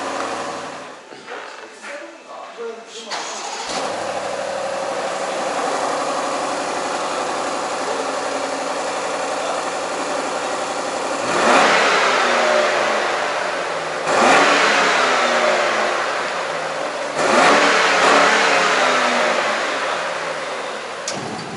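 A BMW car engine cranks and catches, then settles into a steady idle before rising in three loud revs, each climbing and falling back, close and clear with no one speaking.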